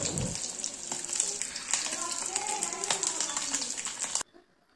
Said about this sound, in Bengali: এদিকে একটা কড়াইয়ে সামান্য পরিমাণে তেল দিয়ে আমি ডিমগুলোকে ফ্রাই করে নিচ্ছি।